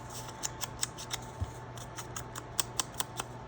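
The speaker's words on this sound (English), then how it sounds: "cut it out of pattern paper" Scissors snip through pattern paper in a quick series of crisp, close cuts, irregular in rhythm and clearly audible alone over a faint background hum.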